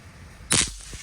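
A loud firework popper goes off in a single sharp, close explosive crack that decays quickly, at an Independence Day celebration.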